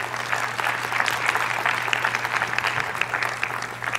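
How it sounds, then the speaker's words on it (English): Sustained applause from a seated audience at a classroom-discussion panel, dense, steady clapping lasting several seconds with no voices over it. "If we could give them a round of applause"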